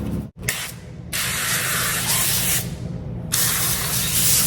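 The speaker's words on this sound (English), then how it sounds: "we are going to go in and spray them with some olive oil spray" Olive oil spray misted onto crackers laid on parchment over a cookie tray, three long steady hissing bursts, loud and close, with short gaps between them.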